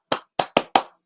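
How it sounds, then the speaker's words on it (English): Four sharp hand claps ring out close and loud in quick succession, the last three tightly bunched, followed by silence. "five times clap"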